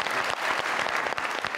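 A studio audience at a television talk show claps in a brief, dense burst that stays loud and even from start to finish.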